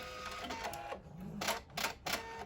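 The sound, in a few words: sewing machine back stitching fabric mask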